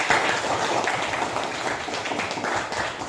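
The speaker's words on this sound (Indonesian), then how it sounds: "kita tepuk tangan untuk kelompok 1" A group in a classroom session applauds a presenting group, producing a continuous, moderately quiet patter of many overlapping claps for a few seconds without clear talk.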